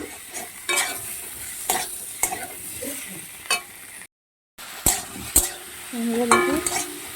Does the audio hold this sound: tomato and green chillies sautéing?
yes